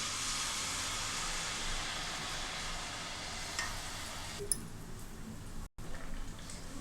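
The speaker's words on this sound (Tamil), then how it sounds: "இப்போ எடுத்து நம்ம கரண்டியில் மொண்டு ஊற்றிக்கலாம் எண்ணெயில்" Malpua batter is ladled into hot oil and fries with a loud, broad, steady sizzle that fills the space, easing slightly toward the end with a brief drop-out and a small clink of the ladle.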